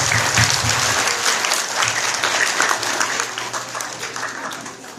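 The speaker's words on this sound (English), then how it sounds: "Let's give them a big round of applause." A school audience applauds, a dense, loud, steady wash of clapping that fades slightly toward the end.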